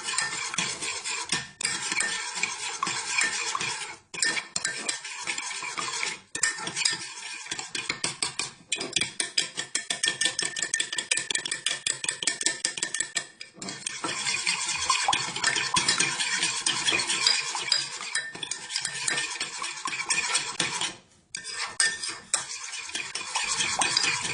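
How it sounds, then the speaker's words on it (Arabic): Sugar and a spoonful of oil are stirred briskly in a mug for a simple mug cake, a continuous fast rhythmic scraping and clinking of spoon against the cup with brief pauses, close and loud. "وبرده هقلب كويس قوي"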